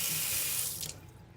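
Tap water runs hard into a kitchen sink to rinse brined corned beef, a steady close hissing rush that eases off after about a second into a softer trickle.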